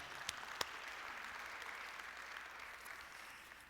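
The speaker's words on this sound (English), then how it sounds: "we could applaud that" Church congregation applauding during a sermon, soft, distant clapping spread evenly across the room, with a couple of sharper claps near the start and a faint, sustained patter after.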